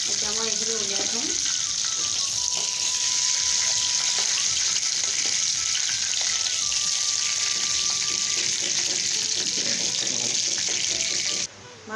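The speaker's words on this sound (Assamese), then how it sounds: "মাছখিনি মোৰ আধা ভজা হৈ গৈছে।" Kuhri river fish frying in hot oil gives a steady, dense hiss and sizzle throughout, close up, with a faint voice briefly heard over it.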